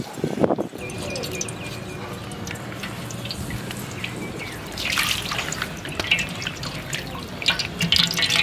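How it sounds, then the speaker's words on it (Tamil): One litre of cooking oil poured into a large pot to make chicken biryani for forty people, a steady trickling stream that thickens toward the end, close and alone. "ஒரு லிட்டர் எண்ணெய் ஊற்றிக்கலாங்க"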